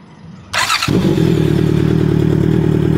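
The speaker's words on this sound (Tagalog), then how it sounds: "Dito naman sa atin na naka-side exhaust na Exil full system. Ito ang tunog niya." A 2024 Honda CB650R fitted with an Exil side-mounted full-system exhaust barks loudly after a sharp burst, then settles into a deep, rough, steady idle rumble close by, with no one talking.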